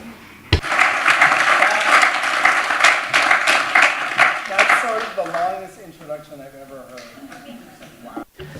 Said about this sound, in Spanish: Por lo tanto, un fuerte aplauso para David Binder.